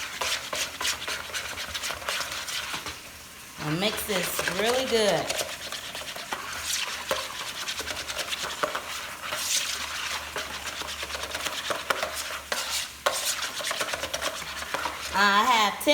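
A whisk stirs batter for fried whiting with water in a bowl, giving a steady scraping, sloshing rhythm up close. Faint voices and a few brief chirpy sounds cut in at times.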